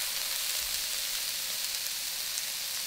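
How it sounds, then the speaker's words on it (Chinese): Shredded green pepper and wood ear mushroom stir-fry in a wok with a soft, steady hiss that runs evenly and fairly quietly from start to finish. "青椒丝和木耳丝翻炒一下"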